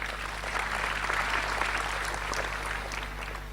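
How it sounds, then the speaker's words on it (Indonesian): Church congregation applauding at a 21st anniversary service, a steady, dense wash of clapping from a large crowd that holds evenly for several seconds with no voices over it. "kita berikan tepuk tangan yang meriah"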